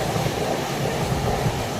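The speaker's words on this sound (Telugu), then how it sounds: "ట్రైన్ చాలా ఫాస్ట్గా వెళ్తుంది." A fast-moving train giving a steady, loud rumble and rattle of wheels on track, continuous and uninterrupted throughout.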